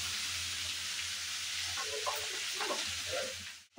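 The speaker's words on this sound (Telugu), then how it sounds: "చూడండి, ఇది బాగా వేగుతుంది" Bottle gourd peel frying in a pan, a steady close sizzle with a few soft stirring scrapes near the end.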